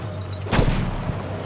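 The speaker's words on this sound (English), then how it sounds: "Where is this guy shooting from? Like, I'm seeing explosions" A burst of gunfire and a loud explosion ring out in Battlefield V, Panzerstorm Conquest mode, one sharp blast followed by a rumbling low tail against steady game ambience.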